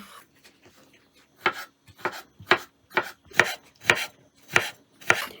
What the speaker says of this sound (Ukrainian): Огірки потрібно нарізати на тоненькі смужки.